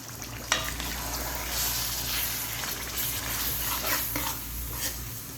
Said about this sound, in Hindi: इसको अब ऑयल में फ्राई करते हैं अच्छे तरीके से गोश्त को।